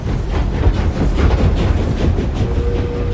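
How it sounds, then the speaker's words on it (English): A video game train rumbles and clatters along at close range, a dense, steady roar of engine and rolling wheels with a rhythmic clickety-clack and a faint thin whine near the end, no voices over it. "Start the train. I think it's running."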